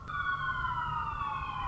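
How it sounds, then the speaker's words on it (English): A loud emergency siren passes outside, a steady wailing tone drifting slowly downward in pitch over a low rumble of traffic, with no talking. "That's a loud siren."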